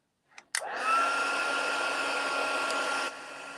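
Heat tool blowing hot air to heat-set packing tape over copy paper for a butterfly craft: a click, then a steady loud broadband whoosh running nearly three seconds before cutting off.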